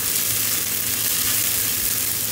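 Onion sizzling and frying in a hot wok for crab in black pepper sauce, a steady close hiss with a low bubbling crackle throughout and no voices.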